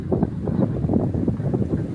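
Strong wind buffeting the microphone in steady low rumbling gusts, with a continuous roar and no voices.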